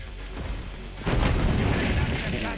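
Gunfire in the video game Borderlands 3: a continuous, booming barrage of heavy shots that swells after a second and stays loud and dense to the end.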